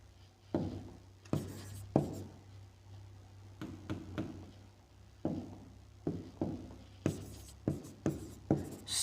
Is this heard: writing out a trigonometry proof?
yes